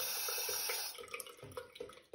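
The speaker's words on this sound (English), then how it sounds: "run it under the tap and cleanse it that way with the water" Tap water running steadily into a sink as a crystal is rinsed beneath it, a bright continuous hiss that cuts off partway, leaving faint drips and handling sounds.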